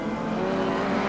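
Gerald Kaye's Skyline touring car runs rough, down to two cylinders, at the 1989 ATCC round at Mallala. The engine gives a loud, close, steady drone for a brief moment.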